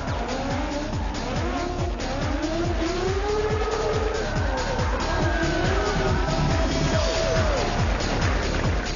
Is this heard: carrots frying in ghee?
no